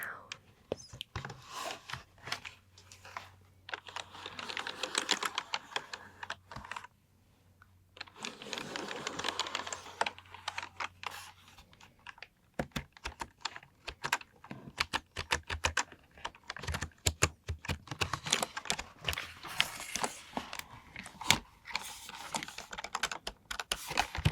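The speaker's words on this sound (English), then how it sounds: "How about some keyboard sounds?" Computer keys clatter in quick irregular bursts, close and soft, with stretches of whispering between the typing runs.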